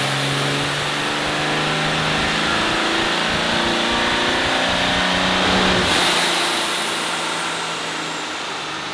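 A Cummins diesel truck engine on a dyno, holding a loud, sustained high-load roar for several seconds before the revs fall away and the engine winds down.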